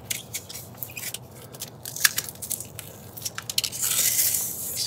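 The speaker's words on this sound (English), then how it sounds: "Just cut it back with a knife flat." A knife trims expanded foam flat around an exterior window frame, producing close, irregular crunching and squeaky cutting strokes with a denser rasping stretch near the end.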